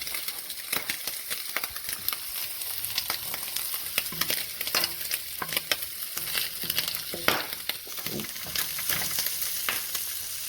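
Butter-fried food sizzles steadily in a pan, crackling with frequent sharp pops and spatters that jump out at an uneven rhythm, close and moderately loud.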